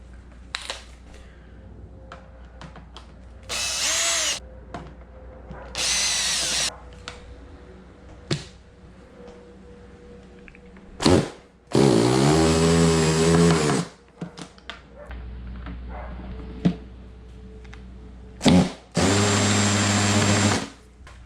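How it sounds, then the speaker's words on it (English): An impact driver on its hammer setting backs out stripped, overtightened screws on a Yamaha R6 during a valve adjustment, with several loud bursts of a few seconds each between quieter handling clatter and clicks. "it helps to have an impactor. Just use the hammer setting and it comes off"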